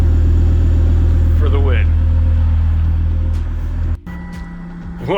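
A Volvo engine running through a loud aftermarket Vibrant muffler gives a steady, throaty low rumble for about four seconds, then cuts off abruptly into quieter sounds, with a voice talking over it.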